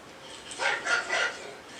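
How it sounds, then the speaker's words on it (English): A dog gives three quick, moderately loud barks or yips in a row, with a faint background hiss and no talking. "What is the sound of the dog?"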